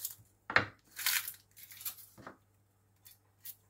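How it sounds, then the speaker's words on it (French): A knife trims the ends off an onion on a cutting board in a home kitchen, giving a few sharp, close clicks and taps separated by short pauses. "je vais commencer à émincer les oignons. Je coupe les 2 extrémités."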